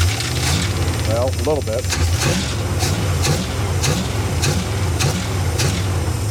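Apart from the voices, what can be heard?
1977 Dodge motor home engine running after revival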